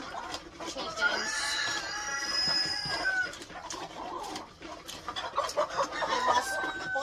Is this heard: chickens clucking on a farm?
yes